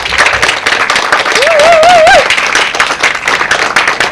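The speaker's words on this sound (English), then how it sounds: "Let's give another round of applause." Steady crowd clapping fills the whole stretch, dense and sustained, with a brief whistle-like tone rising and wavering in the middle.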